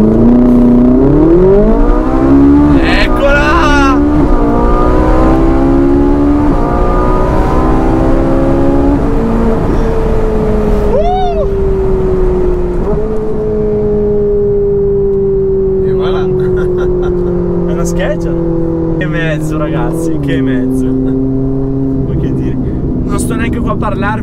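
A Ferrari 458 Italia accelerates hard from a standing start. Its loud, close engine note climbs steeply through several gears, dropping briefly at each upshift, with a short spoken exclamation near the start.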